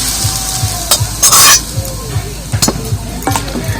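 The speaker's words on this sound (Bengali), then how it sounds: "গরম করার পর তেলটা এর মধ্যে দিয়ে দিচ্ছি আর এই গরম অবস্থায় দিতে হবে" Heated oil poured over the spice mix for a green chili pickle: a sudden loud hiss and crackle rising from a steady background of stirring and gentle sizzling, with a few clinks and a little talking nearby.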